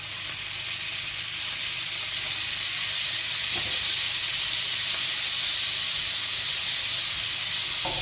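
Wood pigeon breast frying with butter in a hot pan, a steady, loud, even sizzle and hiss that holds throughout without pause, close up and with no voices.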